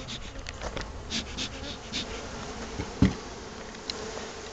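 Honey bees buzzing around a beehive, a soft continuous hum close by with faint fluctuating drones and a single brief knock partway through.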